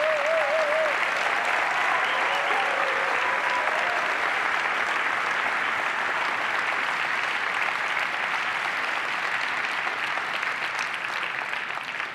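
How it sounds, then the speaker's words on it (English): Loud, sustained applause from a large keynote audience honoring Apple Design Award winners, a dense even wash of clapping that holds steady for about twelve seconds, with a few faint whoops early on. "Let's give them a big round of applause"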